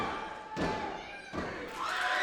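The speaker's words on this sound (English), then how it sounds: "Rip Cannon gets Rayo down" A wrestler slammed onto the mat of a wrestling ring, two heavy, booming thuds a little under a second apart, with a faint crowd murmur behind.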